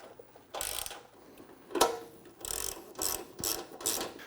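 A 5mm Allen wrench tightening a bolt on a steel front bumper fitted to a Jeep Wrangler JL Unlimited, heard as several close, ratchety metal clicking bursts in an uneven rhythm, with no talking.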